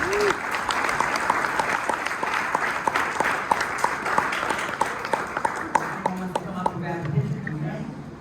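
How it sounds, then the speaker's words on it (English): Audience at a banquet applauds with sustained, dense clapping from a crowd indoors, steady for several seconds before thinning out as a voice begins talking. "so one more big round of applause for them."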